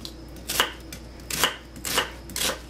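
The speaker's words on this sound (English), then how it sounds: "I will start chopping onion" Onion being chopped with a knife on a cutting board for vegetarian borscht, four distinct close knife strikes spaced about half a second apart, alone with no talk.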